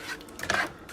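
A utensil stirs and scrapes through creamy jerk-seasoned sauce in a pan, a brief soft rubbing swirl with a faint clink, close up and without talk.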